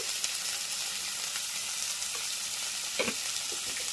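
Chiti crabs fry in a pan with a steady, close hiss of sizzling oil, broken by a couple of brief clatters from stirring.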